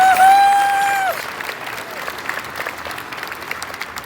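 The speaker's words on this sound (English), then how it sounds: "So big round of applause for Mr. Mullen." Loud audience applause fills a ceremony hall after team leaders and a lead herder are honored, breaking out strongly after a brief high electronic tone and continuing as a steady wash of many clapping hands.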